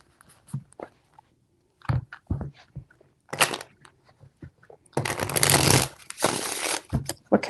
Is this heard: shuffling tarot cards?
yes